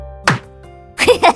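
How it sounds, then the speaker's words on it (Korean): A sharp single slap of a palm smacking a bottom, a quick loud thwack, followed moments later by a burst of a voice. "아내의 손바닥이 잠자는 아들 엉덩이에 철썩!"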